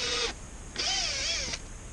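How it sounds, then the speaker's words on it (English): A power drill bores pilot holes into wood on a small farm, giving two close, short whining bursts separated by a brief pause. "So what we're going to do is pilot some holes here so that it makes it easier to drill"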